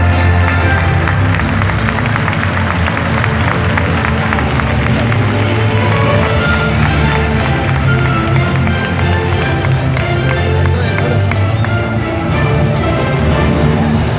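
A large outdoor crowd at a bull-running recortes contest in Valencia gives a sustained, loud ovation of dense clapping and cheering that holds steady throughout, with scattered taps and a faint voice under it.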